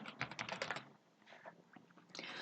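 Close, quick keystrokes on a computer keyboard as a search term is typed into office document software, a dense burst of clicks, a short pause, then more typing, with no speech.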